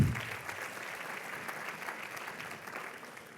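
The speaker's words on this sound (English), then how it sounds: "another round of applause for Harold and Director Pische, please" An audience at the opening plenary of a small business finance forum applauds steadily, a broad wash of clapping that starts strong and slowly fades.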